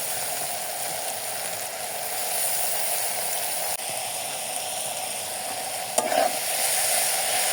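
Fish is fried with potato and eggplant in a pan, making a steady, dense sizzle that runs unbroken and close, with a few faint scrapes and a brief clatter of a utensil near the end.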